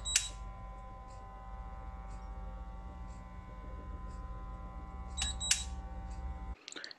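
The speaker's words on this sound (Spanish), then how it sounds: "Cada uno de los pitidos que están escuchando es uno de esos pulsos." Short electronic beeps mark stimulus pulses from lab equipment in a chemical ecology experiment, a few sharp bleeps spaced over a constant mains-like hum, with a louder pair near the end before the hum cuts off.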